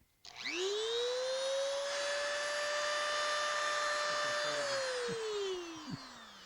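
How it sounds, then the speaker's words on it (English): A high-speed rotary modeling tool rated at 5,000 to 35,000 RPM whines up quickly, holds a loud steady high-pitched tone for about four seconds, then winds down as it is switched off. "You can hear that tool has got a tremendous amount of crank to it."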